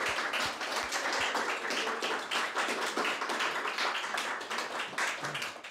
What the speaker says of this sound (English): I'd like everyone to give a round of applause to Steve and to Vanessa